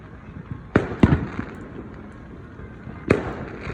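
Fireworks at a neighborhood show go off in three sharp bangs, two close together and one after a pause, each trailed by crackling over a low background murmur.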